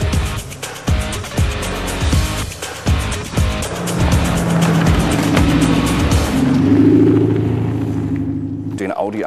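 Audi A6 Allroad Quattro driving over rugged ground, with bumpy rumbling and thuds giving way to a steady engine drone that swells and then fades, loud and close, with speech over parts of it.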